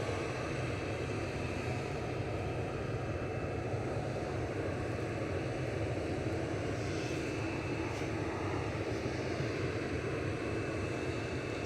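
A Ryanair Boeing 737-800 operated by Malta Air departs Manchester Airport for Malaga, its jet engines a steady broad distant roar that holds level throughout with no talking.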